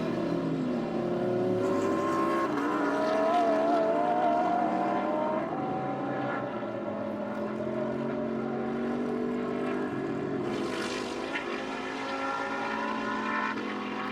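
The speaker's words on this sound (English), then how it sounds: "drivers putting the power down, cars snaking a little bit" GT race cars accelerate hard out of a hairpin at the Nürburgring, several engines blending into a loud sustained roar that rises and swells as the pack pulls away.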